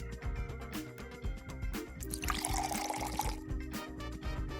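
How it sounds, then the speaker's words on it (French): Water pours into a bottle for a prank setup with a steady liquid rush and gurgle that builds through the middle, over a continuous low background hum. "Verse une demi-tasse d'eau"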